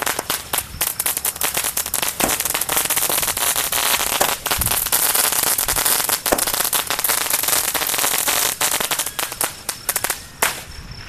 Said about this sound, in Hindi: अब नंबर है बिग साइज का स्काई शॉट का जो कि है मार्बल वाला